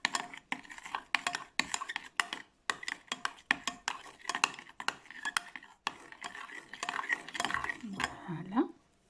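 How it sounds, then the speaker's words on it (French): Spoon stirring tomato sauce and pepper in a pan, repeated clinks and scrapes of metal against the cookware in an uneven rhythm, close up, with a voice speaking briefly near the end. "On mélange la sauce tomate et le poivre et le trop de poivre."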